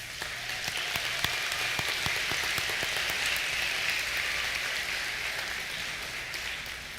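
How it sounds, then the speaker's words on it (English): An audience at an eighth-grade graduation ceremony claps steadily, a dense, even patter of many hands that holds for several seconds. "Let's give you guys a round of applause."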